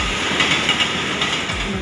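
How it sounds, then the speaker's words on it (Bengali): Uttarbanga Express pulling into a station platform, a steady loud rumble of rolling rail wagons with faint clatter throughout, no talk. "আমাদের ট্রেনও ঢুকে গেছে, আমরা যাচ্ছি উত্তরবঙ্গ এক্সপ্রেসে।"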